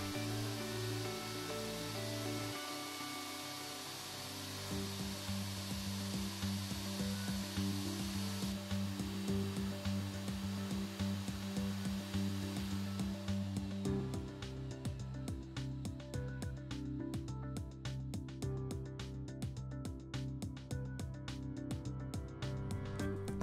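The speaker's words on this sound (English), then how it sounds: "the welded board can now be machined back into tolerance" A Hydratight 2250P portable boring bar machining a welded bore back into tolerance, a steady mechanical hum and grinding drone with a rapid ticking texture, continuous and moderately loud with no talk.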